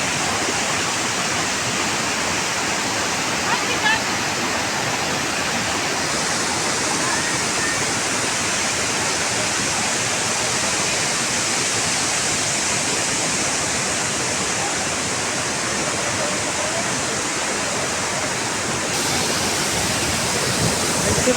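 Tirathgarh waterfall sends a loud, unbroken roar of rushing water that fills the whole stretch close up, a dense steady wash with no pauses or distinct voices.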